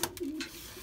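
Belgian racing pigeons coo softly in a loft, one brief low throaty coo, close by and fairly quiet, with faint hiss and no talk.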